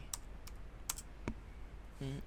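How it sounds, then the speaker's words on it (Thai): A few quiet, separate keystrokes on a computer keyboard while entering commands in an Ubuntu terminal, with sharp clicks spaced out over a hushed room. "ผมพิมพ์ ssh ผมกดแท็บบนคีย์บอร์ด"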